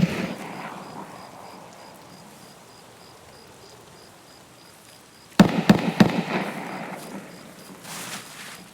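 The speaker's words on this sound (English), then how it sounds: "Are those his bait shots?" Escape From Tarkov gunshots crack out after a quiet, rain-like ambient stretch, a cluster of several sharp, loud reports in quick succession, followed by a fainter distant pop near the end.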